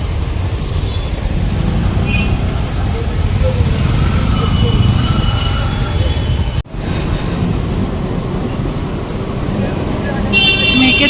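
A long road traffic jam rumbles with engine noise, and car horns toot now and then, the loudest near the end; people talk over the traffic the whole time.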